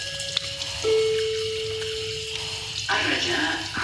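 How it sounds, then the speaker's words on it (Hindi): Water runs from a sensor-activated tap in a washroom, a steady close hiss with a tonal whine in the background, shifting partway through as the flow changes. "पानी भी सेंसर से आएगा जी"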